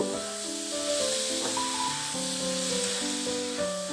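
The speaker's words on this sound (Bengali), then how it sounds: "টমেটোটাকে ভালো করে আমি কষিয়ে নিচ্ছি" Chopped tomatoes cooking down in a pan for aloo fulkopi, a Bengali potato-cauliflower curry, giving a steady, soft hissing sizzle throughout, with a gentle melodic tune playing over it.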